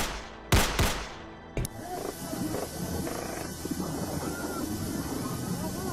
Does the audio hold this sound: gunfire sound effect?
yes